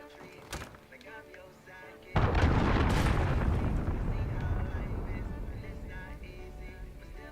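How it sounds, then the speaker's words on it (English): Cruise missile strike in a multiplayer shooter video game: a sudden heavy explosion bursts in after a quieter stretch, then a long rumbling decay rolls on for several seconds, with faint game sounds underneath. "Allied cruise missile launched."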